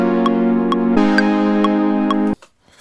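Ableton Live metronome set to a slower tempo, its even clicks spaced wider apart over a held synth tone that stops suddenly before a short quiet tail.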